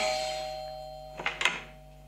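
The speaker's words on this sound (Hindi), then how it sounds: "तो हाँ एक दिन एक घंटी बजी" Doorbell chime used as a sound effect, a two-tone ding-dong ringing out briefly and fairly clearly over a faint steady hum, no talking.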